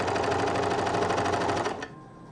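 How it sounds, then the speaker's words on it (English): A serger overlocker running through knit fabric at reduced speed, a loud, close, steady rapid chatter of needles and blades that cuts off sharply near the end, leaving faint room tone. "if you have speed control on your serger overlocker, this is the time to use it"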